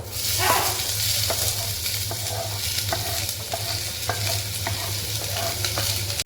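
Sliced onion sizzling in hot oil with cardamom, cinnamon, clove, bay leaf and asafoetida for a spicy mutton rassa, a constant loud crackle punctuated by repeated spoon scrapes and clinks against the pan, close and without talk.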